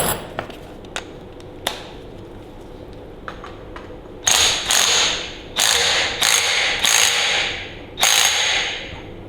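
Ratchet with a large socket turning on a Ferguson TEA20 tractor: a few faint ticks at first, then five loud clicking ratchet bursts close by, with brief pauses between them.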